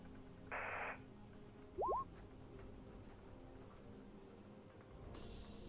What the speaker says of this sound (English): You hear the radio come on.